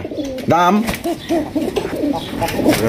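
Pigeons coo at a bustling pigeon market, repeated rolling coos close by amid a crowd's background murmur and a steady hum.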